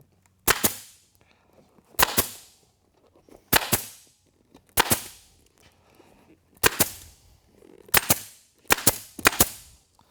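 A staple gun fires into a new ATV seat cover, about a dozen sharp, loud snaps, some in quick pairs, spaced over several seconds with quiet gaps between them.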